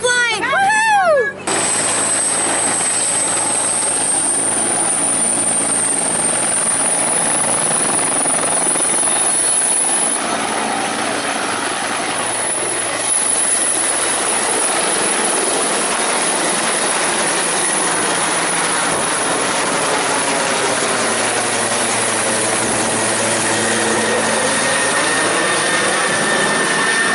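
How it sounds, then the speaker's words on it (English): A small airplane in flight gives off a loud, steady engine drone with a high whine that holds for the whole stretch. "Wasn't that cool? Airplane ride."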